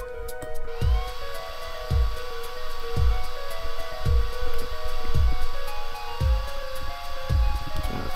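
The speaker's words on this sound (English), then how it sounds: "Just touch to direct the dryer." Hair dryer blowing steadily on a plaster footprint cast in the Apollo Justice game, a continuous loud whir with a repeating low thump roughly once a second underneath.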